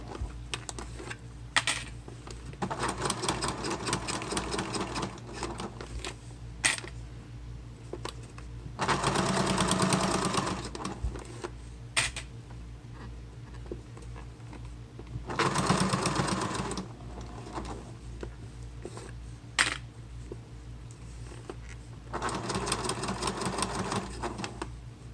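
Sewing machine stitching all the way around a crossbody wallet, in several loud runs of rapid mechanical whirring separated by quieter pauses and handling clicks, with no talk.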